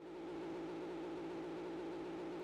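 TVR Griffith 500 engine from Gran Turismo 3, a steady, loud, continuous engine drone with a sustained tonal hum that holds even pitch throughout, with no talking.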